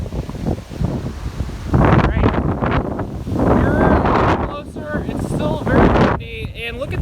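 Hurricane Ian wind gusting hard on Bonita Beach at landfall, a loud, steady roar buffeting the microphone, rising and falling in strong surges while someone talks over it.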